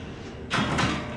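A door opens in the Outlast horror video game, a short scraping creak and thud that rises suddenly from quiet and lasts under a second, close and fairly loud with no talk.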